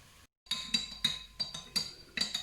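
A spoon stirs beef bouillon into hot water, clinking against the container in a series of about seven light, close taps after a brief silence.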